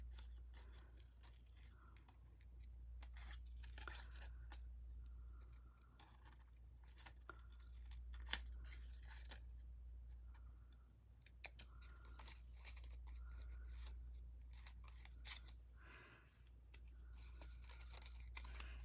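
Scissors snip into a small die-cut paper graphic during paper crafting, making soft, quiet intermittent cuts and crunches over a steady low hum, with no talking.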